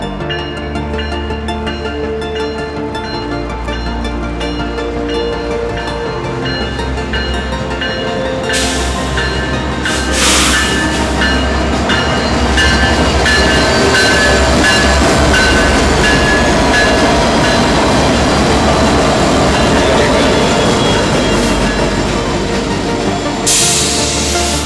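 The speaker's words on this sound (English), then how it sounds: "the engine in his train finally started to move" A train gets under way with a heavy, continuous rumble and clatter of rail cars rolling on track, loud and close, swelling as it gathers speed, with brief hissing bursts partway through.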